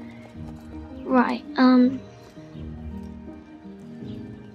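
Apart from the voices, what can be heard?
horse hooves and neighing in Star Stable video game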